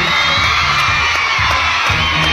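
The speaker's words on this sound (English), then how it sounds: "Give him a big round of applause." Audience applause and cheering fill a school science and news fair at Taylor High School in Kuppam, a dense, steady crowd roar with whoops and shouts held loud throughout.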